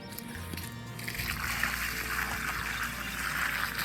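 Water splashes and trickles steadily onto the ground around a moringa tree, a continuous close pouring hiss lasting several seconds.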